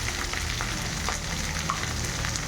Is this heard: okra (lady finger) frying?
yes